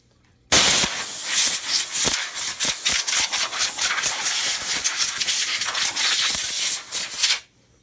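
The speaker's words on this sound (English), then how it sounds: "take your air compressor and do one last final just overall blow off" An air compressor blows off an RC car with a loud, continuous blast of rushing air lasting about seven seconds. Short pulsing bursts break through the hiss, which starts and stops abruptly.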